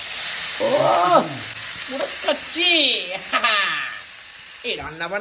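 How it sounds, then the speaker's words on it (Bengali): Small kachki fish dropped into hot oil and frying, with bursts of sizzling hiss rising and fading while someone talks over it. "এই দেখো তেলের মধ্যে চলে যাবে সুন্দরভাবে একদম কচি করে এই চলে গেল তেলের মধ্যে"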